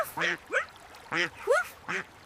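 A cartoon duck in a 3D pastel animation quacks five times in quick succession, each call loud and close with a nasal, clipped tone and short gaps between.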